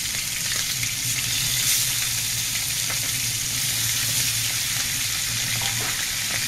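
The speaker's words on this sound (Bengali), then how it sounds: "মাছ দেওয়ার সময় প্রথমে চোখটাকে আগে তেলের মধ্যে দিয়ে দিতে হবে" Pabda fish frying in hot oil for a Bengali jhal, giving a steady, dense sizzle that runs unbroken and fairly close throughout, with no talking.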